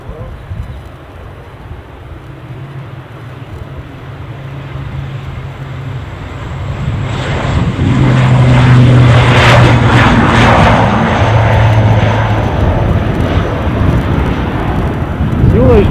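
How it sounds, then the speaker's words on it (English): An ATR turboprop airliner takes off at Edinburgh airport, its engine drone steadily swelling to a loud roar with a tonal propeller hum, heard from a spotting position amid wind noise while someone talks over it. "So let's get our ATR takeoff."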